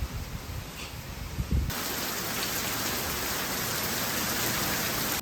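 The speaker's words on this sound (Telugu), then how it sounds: "చూస్తుండగానే పెద్దగా అయిపోయింది వర్షం" Heavy rain pours down in a dense, steady roar that swells louder after a brief quieter start and continues unbroken.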